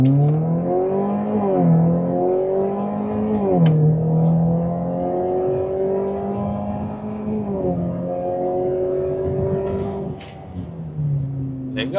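A 2016 Jaguar XE R-Sport with a 2.0 turbo engine accelerates hard from inside the cabin, its engine note rising steadily through each gear, then dipping briefly at each upshift before climbing again.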